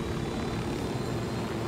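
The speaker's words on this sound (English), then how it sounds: "Chopper!" A helicopter in the video game Ghost Recon Wildlands makes a loud, steady rotor and engine roar that fills the whole moment, with a continuous broadband thrum and no talking.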